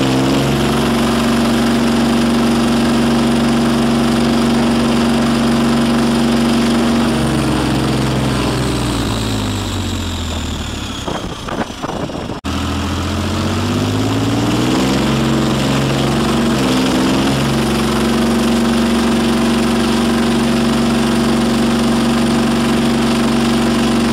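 Leopard 2 main battle tank engine, a heavy diesel powering a 60-ton vehicle, running with a steady low drone that dips briefly mid-clip before returning to a constant loud roar.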